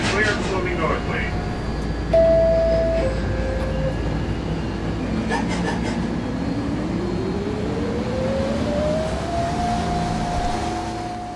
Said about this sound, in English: This is a Manhattan-bound 4 express train.